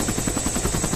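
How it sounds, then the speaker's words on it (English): Helicopter rotor thumping in steady rapid pulses, loud and close, with a continuous engine whine over it. "wait for the helicopter to take off again"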